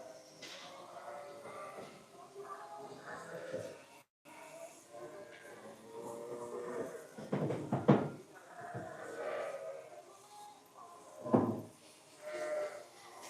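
Sheep bleating during a busy shearing session on a farm, with several loud calls rising above a steady background of working noise and people talking.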